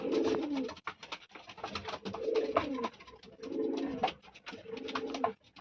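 Loft pigeons cooing, repeated soft throaty coos in short bursts with brief pauses between, fairly close, with light rustling and clicks from the birds.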